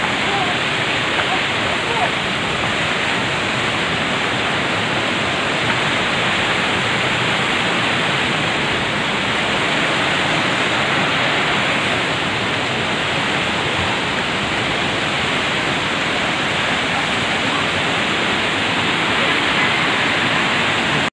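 Neel waterfall near Rishikesh roars as a loud, dense, unbroken rush of falling water that fills the whole stretch at close range, with no talking heard.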